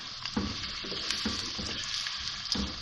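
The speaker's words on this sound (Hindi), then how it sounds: "और इसमें प्याज डाल रही हूँ।" Onions frying in half a cup of oil in a pan while cooking Punjabi-style palak gosht, a continuous bright sizzle with a few soft stirring knocks and bursts of crackle.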